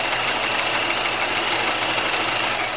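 A sewing machine runs continuously while stitching a seam down a pajama pant leg, a close, steady whirring hum with a rapid mechanical chatter and no pauses.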